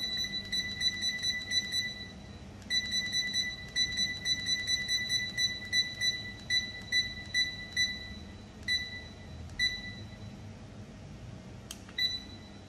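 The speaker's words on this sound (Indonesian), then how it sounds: "Ini alarm nih, alarmnya nih ya" Rapid electronic beeping in repeated clusters of short high-pitched bleeps from a wooden digital LED desk clock alarm, fairly faint over a low background hum.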